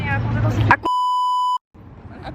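A single clean electronic scanner beep sounds after a brief burst of voice, holding steady for under a second before cutting off into quiet murmuring.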